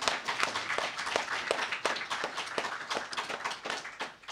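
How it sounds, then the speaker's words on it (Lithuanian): An audience claps in a hall, giving quiet, fairly distant applause of many hands in a dense rhythmic patter that runs throughout. "My award is your applause, you see."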